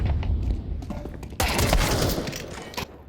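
USP pistol shots in a Counter-Strike match on the Nuke map, a rapid cluster of sharp cracks and then a louder burst of overlapping gunfire, close and loud.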